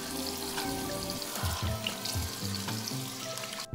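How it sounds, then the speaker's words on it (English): Running water rinses off a face mask, a close, continuous splashing and trickling of tap water with uneven bursts as hands move through the stream. "it's time to rinse off the face mask"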